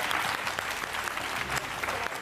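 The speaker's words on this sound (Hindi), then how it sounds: "बच्चों के लिए जरा एक बार जोरदार ताली बजा दीजिए" An audience at a children's event in India breaks into steady, dense applause for the kids, a continuous wash of many hands clapping with no voices standing out.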